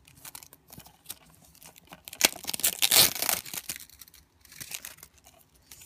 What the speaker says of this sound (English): This is the fun part about unwrapping games while taking off the shrink wrap.